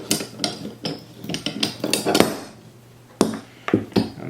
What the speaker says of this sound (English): literally we just unscrew the receiver.